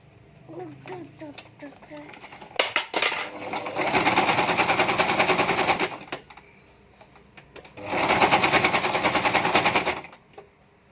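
A sewing machine stitches a homemade cloth face mask in two long, loud, rapid mechanical runs, separated by a brief pause. Speech and small handling noises are heard before the first run.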